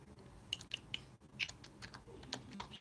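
Fingers tap rapidly and irregularly on a phone screen, close and quiet, a soft clicking patter with small pauses and faint background hiss.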